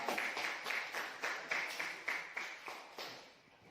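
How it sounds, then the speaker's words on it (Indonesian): Brisk, evenly spaced clapping from a small classroom audience after a group presentation, each clap sharp and close, fading slightly toward the end with no talk over it. "Tepuk tangan untuk Bapak."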